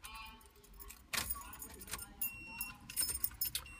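A Nissan 240SX car key jangles on its ring as it turns in the ignition, with a series of close metallic clinks and rattles in quick irregular bursts, no talking.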